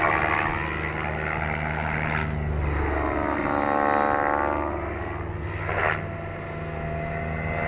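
A 700-size RC helicopter in flight, its rotor pitch changes making a loud, continuous whooshing drone that swells and fades with sharp surges.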